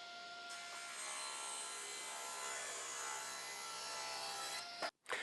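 A saw cuts through a wood piece for a table saw fence clamp, giving a steady, close, bright rasping whine that runs for several seconds before it cuts off.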